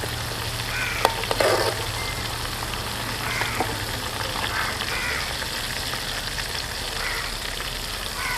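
Chicken pieces deep frying in hot oil for homemade KFC-style chicken at a village-style cook, a steady close sizzle and crackle throughout with a couple of brief clinks near the start.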